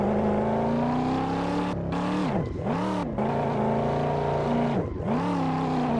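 A car engine roaring continuously while drifting in the Assetto Corsa racing game, revs rising and dropping sharply as the throttle is feathered, loud and close throughout with brief gear-shift dips.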